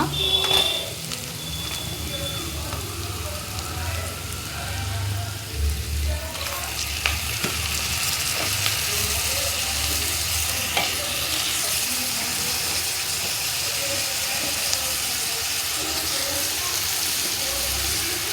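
Chicken liver fries with green chilies in a pan, giving a constant loud hiss and sizzle with stirring scrapes throughout, a brief voice heard at the start.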